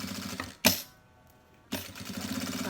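A sewing machine stitching close to the edge of synthetic fabric for a vaccine card cover runs in a steady, rapid chatter, stops with a sharp clack, pauses briefly, then starts up again. Close and moderately loud.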